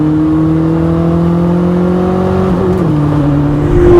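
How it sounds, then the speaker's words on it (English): A Koenigsegg Chimera engine with manual gearbox hums at a steady pitch, dips briefly during a rev-matched downshift, then climbs into a louder rev toward the end; close and loud, no talking. "it spins up and it revs under rev matching downshifts like nothing else"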